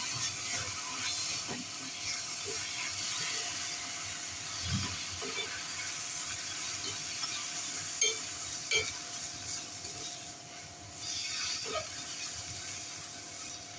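Cumin powder, garam masala and hand-crushed ajwain being sautéed in a pan, giving a steady faint hiss and sizzle with occasional soft stirring scrapes, no talking.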